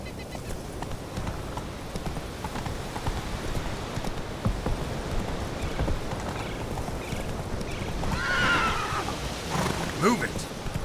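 Roach, the horse in The Witcher 3, clip-clops along with steady hoofbeats and then lets out a clear neigh near the end, with light rain-like ambience in the background.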